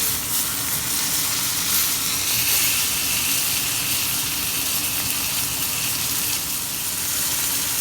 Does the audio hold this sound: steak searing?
yes